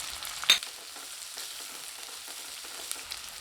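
Shallots, green chilies and curry leaves sautéing in a pan, a soft, quiet frying hiss with a sharp clink of a spoon early on and faint stirring scrapes.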